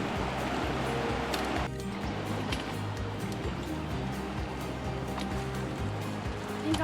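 Hikers wade across a creek on a Sawtooth mountain loop trail, with steady rushing water close by and some splashing, and no voices over it.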